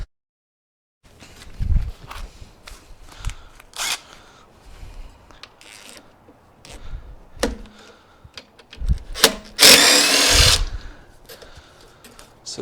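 A power tool undoes screws on a BMW 530e high-voltage battery pack during a teardown. Short whirring bursts come first, then a louder, longer run near the end. Nobody talks.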